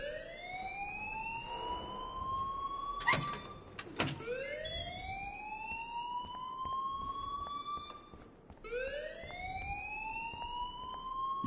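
A wailing alarm rings in a video game, its tone sweeping upward again and again in a steady cycle, interrupted by a couple of sharp knocks, loud and continuous with no voices.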